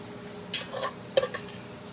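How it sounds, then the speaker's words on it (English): A spoon stirs broccoli and cheese in a pot, making a few short scraping clinks and soft wet shuffles against a quiet background, with no talking. "I'm gonna stir it up"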